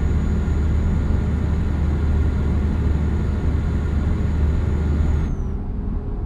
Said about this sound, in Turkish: Bak şu an bile bile basıyorum arabanın gazına.